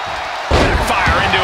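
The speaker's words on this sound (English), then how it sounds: "Backfire into a DDT." In WWE 2K23, Sting and Hollywood Hogan trade moves, and a wrestler is driven down with a DDT: one sudden heavy slam against the mat, loud and close, over crowd noise and a commentator talking.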